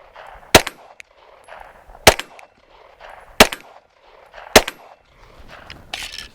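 Pistol shots ring off steel targets at 25 yards on an outdoor range, four loud evenly spaced cracks each with a sharp metallic ping, with quiet gaps between and a faint clatter at the end.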